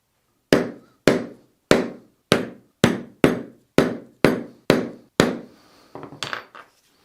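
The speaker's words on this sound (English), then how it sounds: "take an awl or a spike and just press it through the middle" An awl or spike is driven through vegetable-tanned leather for an archery bracer with about ten sharp, evenly spaced hammer-like strikes, each ringing briefly, followed by a softer cluster of clattering knocks.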